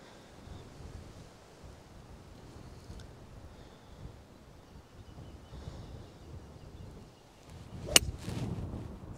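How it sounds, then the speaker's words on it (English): Wind blows across an open golf course, a low, faint rumbling rush buffeting the microphone throughout, with a sharp click and a brief louder gust near the end and no talk. "there's quite a lot of wind behind me"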